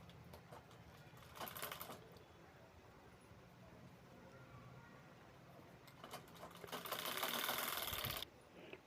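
A sewing machine stitches fabric belts for a handmade bag, running in two short quiet bursts of rapid whirring with a lull of faint room noise between them.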